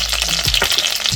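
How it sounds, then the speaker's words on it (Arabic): Nuts frying in a pan of melted butter and a spoonful of olive oil, a steady close sizzle running throughout with a few soft stirring scrapes. "اول حاجه بقى نحط المكسرات تتحمر"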